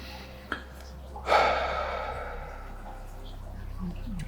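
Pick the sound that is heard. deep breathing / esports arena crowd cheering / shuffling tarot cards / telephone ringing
deep breathing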